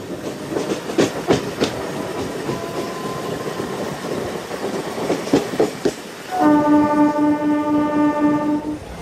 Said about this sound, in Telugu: మన ట్రైన్ అయితే వదిలేశారు రాజమండ్రి రైల్వే స్టేషన్ నుండి